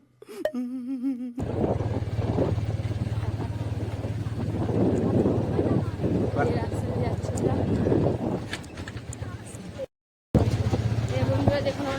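A motorcycle rides along with a steady low engine drone and wind rush close by, continuing for several seconds with a brief cut, while people talk over it.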